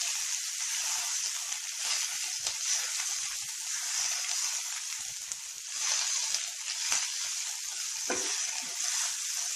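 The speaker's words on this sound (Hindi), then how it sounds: "अब इसके अंदर हम ये चिलीज डाल देंगे और इसको भी थोड़ी देर के लिए हमें सौटे करना है।" Green chillies sautéing in a hot pan for a green chilli sauce, giving a steady, bright, close sizzle with brief crackles and faint stirring scrapes throughout.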